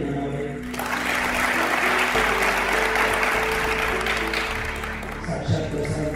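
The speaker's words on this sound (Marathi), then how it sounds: "परदेशातही आपल्यासाठी एवढ्या टाळ्या शिट्ट्या वाजतायत" A theatre audience at a Marathi classic play staged in America breaks into loud, sustained applause that fills the hall, steady and dense throughout with no pause.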